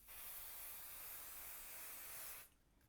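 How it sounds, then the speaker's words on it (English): Spray adhesive hisses from an aerosol can onto quilting fabric in one continuous, steady burst lasting over two seconds before stopping abruptly, close and fairly soft. "Well, I always spray the fabric."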